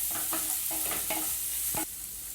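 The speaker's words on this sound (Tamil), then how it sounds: "இது கூட ரெட் சில்லி ஆட் பண்ணிக்கோங்க. ஒரு நிமிஷம் நல்லா வதக்குங்க." Red chilli sautéing in a pan with bread for restaurant-style chilli bread, a steady near sizzle broken by several short scraping stirs of the spatula, with no talking.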